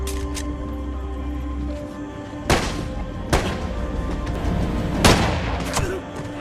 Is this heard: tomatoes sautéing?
no